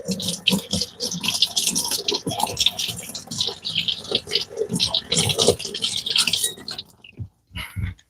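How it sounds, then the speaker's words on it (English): Running water rinsing something off in a carpentry shop: a continuous splashing, hissing spray with scrubbing and dripping textures for several seconds, then it cuts off, leaving a few faint drips and clicks. "Let me rinse this off and let's try to do this as smooth as possible."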